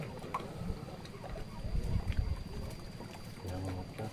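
A boat motor on a fishing outing runs with a rough, uneven low rumble that swells and fades in bursts, close by, while people talk over it.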